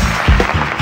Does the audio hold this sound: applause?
yes